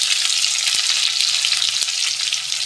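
A bowlful of onions frying in hot oil with whole cumin and green chillies gives a loud, close, unbroken sizzling hiss, with a couple of faint stirring knocks and no voices.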